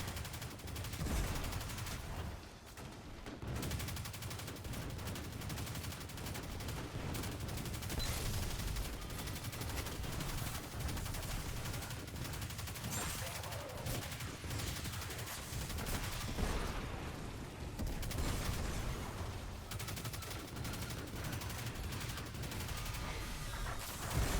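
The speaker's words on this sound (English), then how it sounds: "you pretty much find a group of enemies and just start shooting at them" Sustained gunfire from shooting at a group of enemies in the video game Destiny, a dense, continuous barrage of shots that stays loud and steady throughout with almost no pauses.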